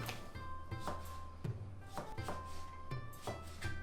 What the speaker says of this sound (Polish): ja rozpoczynam od zielonej cebulki, którą sobie kroję